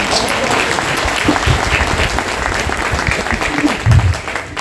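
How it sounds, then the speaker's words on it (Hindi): A crowd at a Hindi comedy poetry show claps loudly and continuously, a thick steady wall of applause with a few louder thuds near the end. "बस आपके तालियों में जोर होना चाहिए।"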